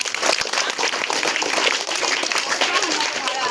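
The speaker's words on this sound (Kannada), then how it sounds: "ಅವರಿಗೆ ಒಂದು ಜೋರಾದ ಚಪ್ಪಾಳೆ" Loud, sustained clapping from an audience at a school book-donation event honouring a donor, filling the whole stretch with dense, even applause.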